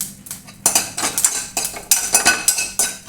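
Curry leaves drop into hot oil in a pan for a moringa leaf chutney, giving bursts of bright crackling and sizzling spatter that come in repeated close, loud surges.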